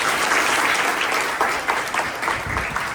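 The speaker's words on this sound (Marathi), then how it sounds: "टाळ्या" A hall of 10th standard students at a study seminar breaks into sustained applause, a dense, even roar of clapping from many hands that holds for a few seconds.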